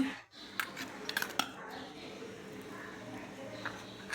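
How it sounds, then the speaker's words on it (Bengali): A teaspoon lifts steamed rice cakes out of a container with a few light metallic clinks and taps against the vessel, close and quiet over a low background hum. "চা চামচ দিয়ে একটু উঠিয়ে নিব"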